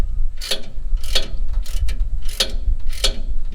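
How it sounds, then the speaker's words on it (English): Ratchet loosening a 13 millimeter bolt on helper bag brackets of a Sierra pickup, giving five bright clicking bursts at an even pace, close and loud over a low background rumble. "need to unbolt that 13 millimeter that you see right here"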